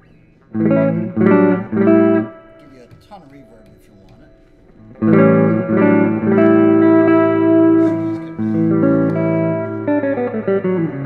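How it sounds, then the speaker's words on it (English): Electric guitar chords ring through a 1966 Ampeg Reverberocket 2 amp, drenched in reverb with a wavering vibrato; a short burst of strums, a pause, then sustained playing. "On this side you have the reverb and vibrato."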